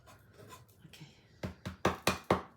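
Tiny diamond painting drills poured into a small container, a quiet shuffle followed by a run of sharp, increasingly loud rattling bursts as the beads cascade in, close up.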